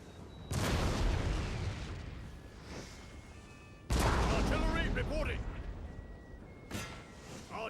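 Heavy artillery and musket volleys thunder across a Napoleon Total War battlefield, two big booming blasts a few seconds apart with rolling echoes and a smaller later report, voices talking underneath.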